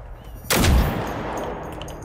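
A single loud gunshot boom from the open-world shooter Generation Zero, a sharp crack followed by a long rolling echo that fades out slowly.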